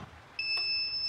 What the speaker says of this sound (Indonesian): Nah, alarm bunyi itu berarti menandakan bahwa api di sini sudah tidak ada.